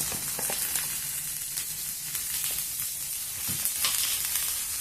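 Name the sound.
onions frying in pan for raw banana fry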